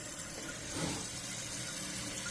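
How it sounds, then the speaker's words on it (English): Toilet tank refilling after a quick flush, a steady hiss of water running through the fill valve, close and continuous with a slight swell near the start. "And it's filling back up again."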